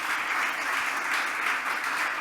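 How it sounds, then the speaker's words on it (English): Steady, dense applause from a conference audience at a climate tech founders panel, loud and continuous with no pauses for the whole stretch. "Please give all of them a round of applause."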